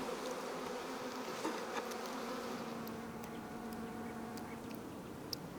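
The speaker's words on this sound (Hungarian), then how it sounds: "A méhek áthordják az eleséget, az üressé vált sejteket pedig rövidesen bepetézi az anya" Honeybees buzzing inside a beehive, a dense continuous hum that stays steady and fairly faint, with a few sharper individual wingbeats flicking past nearby.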